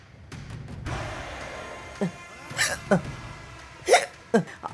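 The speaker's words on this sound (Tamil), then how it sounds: "ரொம்ப விக்கல் வருது அத்தை, ஏதாவது ஆயிட போகுது அத்தை." An older woman at a wedding hall hiccups sharply several times in an uneven rhythm, each hiccup a short voiced jolt over faint background murmur.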